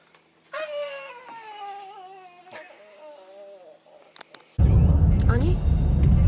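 A cat meows repeatedly at a campsite in a pine forest by the sea, its high wavering cries close and clear for several seconds, followed by a burst of louder broadband noise as people talk nearby.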